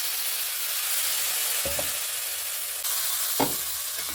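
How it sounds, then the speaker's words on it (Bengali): Ground coriander, cumin, turmeric, salt and green chili frying with a splash of water for a mixed-vegetable labra, a soft continuous sizzle with a couple of brief scraping stirs. "এখন মশলাটাকে কষে নেব ভালো করে"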